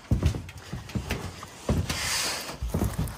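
Screws being backed out of a roof valley joint on Hyygge metal roofing; close, repeated short bursts of mechanical ratcheting clicks separated by brief pauses.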